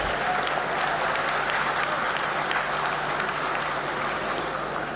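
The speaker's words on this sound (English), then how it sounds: "let's give a big applause to the women of India" Dense, sustained audience applause fills a hall at the 14th convocation ceremony of the ICFAI Foundation for Higher Education, a steady wash of many hands clapping at even loudness throughout.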